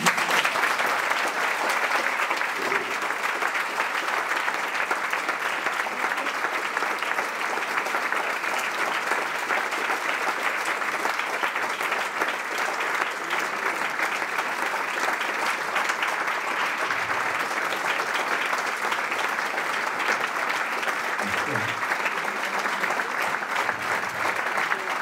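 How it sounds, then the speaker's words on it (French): A lecture audience claps steadily for about twenty-five seconds, a dense, even wash of many hands that neither swells nor fades, with faint low voices underneath. "Merci pour vos applaudissements."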